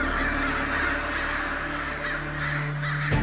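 Several crows caw over a steady low background drone, the calls overlapping in a busy, fairly loud flock without any talking.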